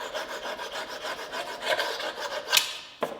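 A tool scrapes across a primer-coated test surface in quick, gritty rubbing strokes, close and steady, ending with a couple of sharper scratches and a final knock.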